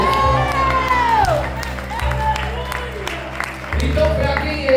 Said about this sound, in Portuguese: Aplaude mesmo